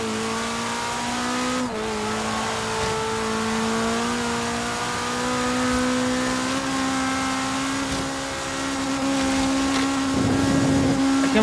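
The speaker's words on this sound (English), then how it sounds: "I can't believe I'm topping out at 153 in a rally car." Rally car in the racing game Forza Horizon 3 driving flat out, a loud steady engine drone holding high revs with slight pitch shifts, one brief gear change, and a touch of tire noise near the end.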